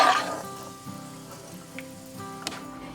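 Chopped cashews and almonds roast in melted ghee in a pan, giving a soft, steady sizzle and light crackle with faint pops, quiet and continuous.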